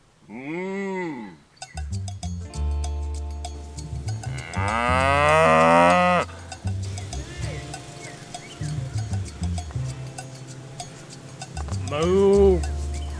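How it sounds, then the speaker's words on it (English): Cows in a neighborhood pasture moo repeatedly, loud and close, with long low calls rising and falling across the stretch and a final moo near the end, plus some background rustle. "they actually moo at me and communicate with me"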